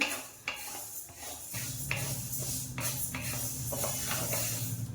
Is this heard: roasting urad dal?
yes